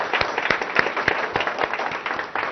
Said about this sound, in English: I think the entire family of ZF deserves a huge round of applause